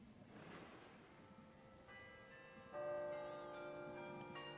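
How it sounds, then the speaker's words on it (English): Oslo City Hall's bells ring out across the city during the Nobel Peace Prize ceremony, a faint, distant carillon of sustained tones that grows fuller partway through over a murmuring outdoor crowd. "We now hear the City Hall's famous bells sounding out across the city"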